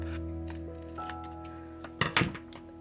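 Scissors cut through scored card stock for a pop up box card, giving a few short crisp snips and rustles near the end after a quiet stretch of faint handling.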